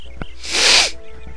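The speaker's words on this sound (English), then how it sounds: "Why do you always have to sneeze twice in a row every time you sneeze?" A character in the video game Eternal Sonata gives a single sharp, breathy sneeze, a loud hissing burst in the middle over a low steady game background.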